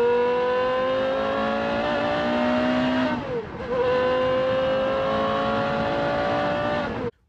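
A supercar engine revs hard with a strong harmonic scream. The pitch climbs, drops briefly as the car shifts, then climbs again, loud and sustained for about seven seconds.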